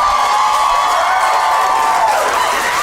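An audience at a stand-up comedy show cheers, whoops and claps in a loud, steady wash of crowd noise that carries through the whole stretch with no pauses.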